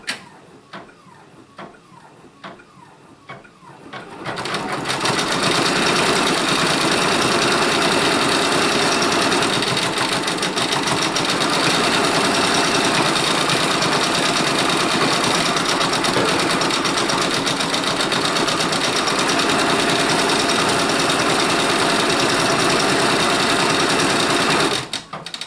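A Brother Persona PRS 100 embroidery machine stitches reindeer appliqué eyes, starting with a few light ticks, then a loud, steady, rapid mechanical whirring and needle chatter running continuously nearby.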